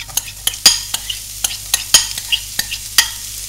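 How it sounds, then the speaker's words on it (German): Onions and garlic fry briefly in a pan holding browned drippings from meatballs, with a quiet sizzle and a rapid series of crisp, close spatula scrapes and taps every few tenths of a second. "Die werden kurz angebraten."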